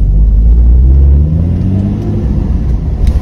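A Porsche Cayman 2.7 accelerates away, its engine rising in a loud, close rumble that climbs in pitch, then settles into a slightly quieter steady drone.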